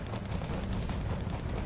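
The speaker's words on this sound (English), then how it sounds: "It does now return fire." Dense, continuous rumbling battle noise from return gunfire in the Wargame Red Dragon video game, a steady wash of distant booms and shots with no clear separate hits.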